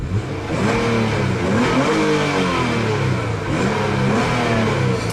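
A 2015 Nissan Altima 3.5 SL's VQ V6 engine revs up and down in smooth, rising and falling sweeps, loud and close, with no talking.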